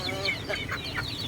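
Hungry chickens in a small backyard chicken farm cluck and chatter close by, several birds calling over one another in a steady murmur.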